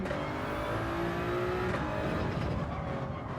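Toyota Supra race car in a racing video game, its engine droning steadily at high revs with a passing-car sweep and faint tire noise, no talk.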